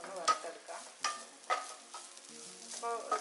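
Grated coconut being roasted in a pan, stirred with a utensil that scrapes and taps in short irregular strokes over a faint, quiet sizzle, close up and with no talking.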